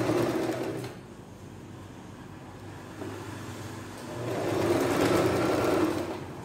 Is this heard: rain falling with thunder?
no